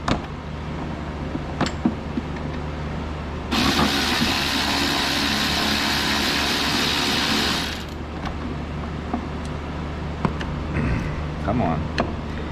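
A ratchet wrench turns to loosen the tensioner pulley on a Jeep Wrangler during a drive belt replacement, making one sustained, steady buzz of rapid clicking for about four seconds, with a few faint knocks around it.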